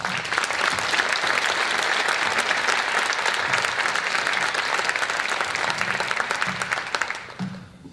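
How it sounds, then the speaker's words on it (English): Audience at a 2024 honor societies induction ceremony applauding for the students, dense sustained clapping from a large crowd for about seven seconds before fading out. "We get a round of applause for our awesome students."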